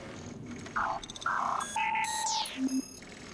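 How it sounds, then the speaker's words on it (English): Turret in the video game Prey emits a quick string of electronic beeps and chirps at varied pitches with soft clicks in between, fairly faint over a low background hum, with no talk. "Clicks and beeps."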